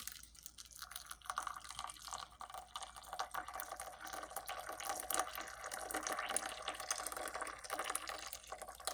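Hot water poured into a tea cup over green tea leaves, a continuous close gurgling trickle that rises slightly as the cup fills, with no talking.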